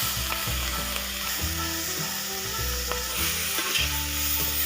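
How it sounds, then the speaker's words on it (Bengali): Shrimp frying in a little oil in a wok after potatoes, a dense, continuous sizzle with stirring scrapes running throughout, close up and steady. "আরো অল্প পরিমাণে তেল দিয়ে চিংড়িটা ভেজে নেব"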